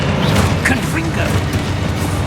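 A Confringo blasting spell bursts in Hogwarts Legacy, a dense booming crackle of spell-fire and impact noise that fills the whole short stretch with steady loudness.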